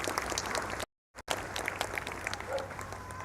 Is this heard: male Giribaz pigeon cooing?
no